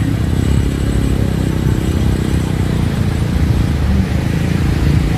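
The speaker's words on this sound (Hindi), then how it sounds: "दोस्तों, आप लोग अभी देख रहे हैं एटीवी राइड, जो कि ये बीच में चलती है।" An ATV all-terrain vehicle rides along a beach at Konark in Odisha, its engine giving a steady, loud, rumbling drone with rattling clatter that holds throughout without a break.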